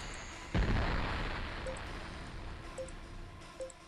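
A single heavy weapon blast in the space game Infinite Space, a sudden boom that rolls off slowly, followed by faint electronic blips, with no talk over it.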